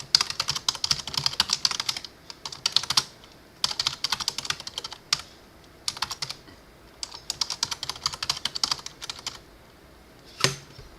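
Fast keystrokes on a computer keyboard as a title is typed, several bursts of clicking separated by short pauses, fairly close and clear, with one sharper clack near the end and no talking.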